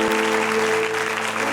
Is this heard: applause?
yes